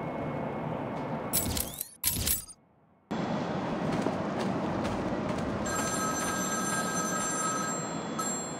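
An old-style telephone bell rings in short bursts within the Batman Arkham City game, followed by a brief drop to near silence and then a steady low game ambience with a faint high electronic tone.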